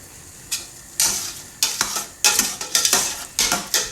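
Vegetables in a pan are stirred after a cup of dry white wine is poured in, with repeated loud scraping strokes over a bubbling sizzle, close by and rhythmic.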